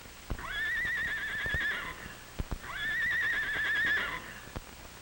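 Two loud horse whinnies, each a rising then wavering neigh lasting over a second, with scattered hoof clops and knocks between them.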